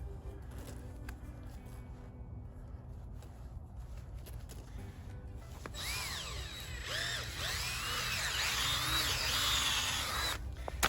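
Power drill turning an auger bit into muddy ground, a faint low hum at first that swells about halfway into a louder gritty whirring and scraping that continues to the end.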